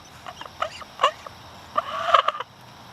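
Older hens pecking around and making soft clucking sounds: a few short, quiet chirps and clucks scattered across a few seconds, with a slightly louder cluster of calls near the end, no talking.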